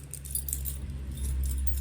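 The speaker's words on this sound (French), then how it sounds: "On lui a fait un gros trousseau. On a pris que des vieilles clés." A large bunch of old metal keys jangles continuously and fairly close, a bright shimmering metallic clatter over a steady low hum, with no talking.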